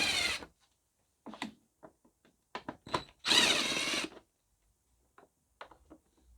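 Power driver spinning out 7mm bolts on a Ford air filter housing: several short whirring bursts separated by pauses and small clicks, with one longer, louder burst midway, close and fairly quiet overall.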